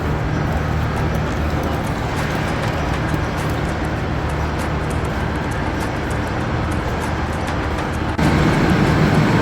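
A train in Spain, on the Seville–Córdoba–Granada route, rumbles steadily nearby as passengers board, a broad low roar with clanking and mechanical hum that grows slightly louder near the end.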